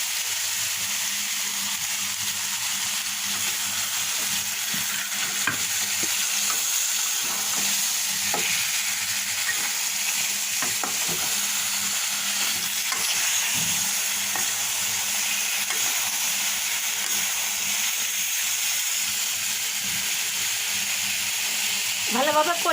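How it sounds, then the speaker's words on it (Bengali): Chicken sautéed and stirred with spices in a pan, a long even sizzle with intermittent scrapes and knocks of the spoon, close and steady throughout. "ভালোভাবে কষিয়ে নেব।"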